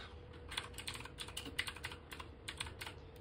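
Typing on a computer keyboard, a quick, steady run of close, light key clicks continuing throughout over a faint background hum.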